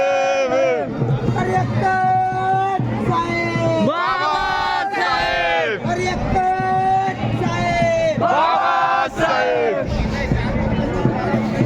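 A large crowd at a university renaming-day celebration on 14 January, with steady loud babble, chanting and shouted voices throughout, several voices rising in bursts close by.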